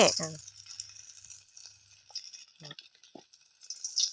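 Rice balls frying in a pan give a soft, steady sizzle, quiet and close, broken by a few short clinks and stirring noises, with a voice talking briefly over it.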